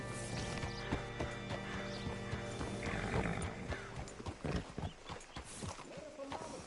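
Horse hooves clip-clop on the ground in Red Dead Redemption 2, a loose, uneven rhythm that grows sharper and more distinct toward the end, set over a busy background of ambient sound and tonal music.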